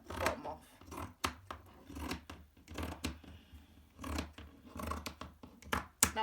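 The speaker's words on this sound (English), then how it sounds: "If you're using the t-shirt, just cut underneath the arms, and then at the bottom just cut over the hem" Scissors snip through an old cotton t-shirt in a run of sharp, close cuts, each a brief rasping crunch repeating at an uneven pace, with quiet handling sounds in between.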